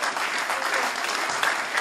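Rugby fans at a Featherstone Rovers meet-and-greet applaud a player, a brief burst of steady, close indoor clapping.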